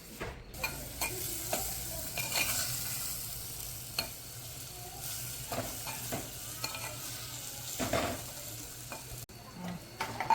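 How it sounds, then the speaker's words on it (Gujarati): Gunda flower greens being tempered and stirred in hot oil in a home village kitchen, with a steady close sizzle broken by repeated scraping stirs of a spoon against the pan, no voices over it. "તેલ મૂકી દઈને વઘારી નાખી ભાજી"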